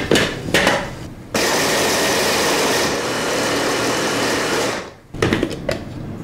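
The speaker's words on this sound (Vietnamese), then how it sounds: "Mình cho vào cối xay tôm cho thật là nhuyễn nha" An electric grinder pulverizes dried shrimp that were soaked in hot water, giving a loud, steady whirring roar for about three and a half seconds, with short clatters and handling noises before and after.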